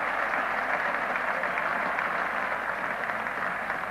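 Crowd applause at a 1975 Ashes Test match at Lord's, a steady, broad wash of clapping from a large crowd that holds for the whole stretch without a break.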